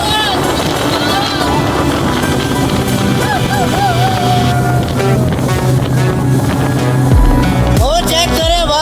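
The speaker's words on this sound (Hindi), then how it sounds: "चलनी शुरू हो गई है बोट" Motorboat pulling away on Keenjhar Lake, a continuous loud engine drone with water splashing and wind buffeting the microphone, crowd noise mixed in.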